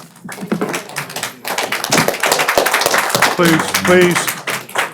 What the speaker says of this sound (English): let's hold the applause till the end or something if we want to.